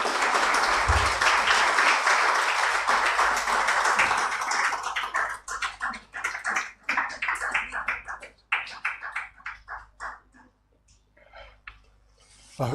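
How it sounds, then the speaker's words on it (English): A lecture audience gives a warm welcoming round of applause for a professor. Dense, loud clapping holds for several seconds, then thins into scattered claps that fade to near silence. "I want to ask you to join me by giving the professor a warm round of applause as we welcome him."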